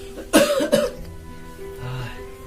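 A man with a cold and fever coughs harshly twice in quick succession, close and loud, with a softer throat sound trailing after.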